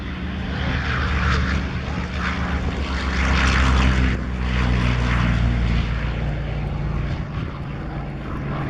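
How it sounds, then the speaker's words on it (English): A loud propeller engine of a Chance Vought F4U Corsair roars steadily at an air show, swelling in intensity midway as the aircraft powers up for takeoff, with no talking. "listen to the sound of this engine on this airplane taking off right now"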